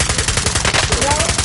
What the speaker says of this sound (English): Even hostile fire.